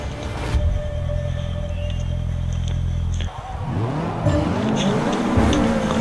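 Race cars in the Forza 6 racing game at the start of a race, a loud steady engine drone that breaks off and gives way to rising, revving engines and overlapping acceleration, close and continuous.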